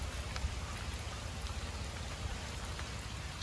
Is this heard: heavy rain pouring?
yes